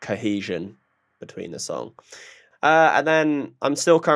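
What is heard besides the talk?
No distinct noise like a dog, phone or traffic.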